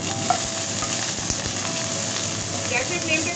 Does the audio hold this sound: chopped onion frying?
yes